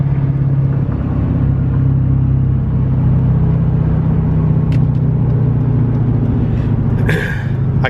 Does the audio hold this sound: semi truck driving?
yes